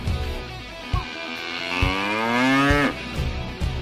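A cow gives one long, loud, close moo rising and falling in pitch, set among a few soft thumps, with no voices present.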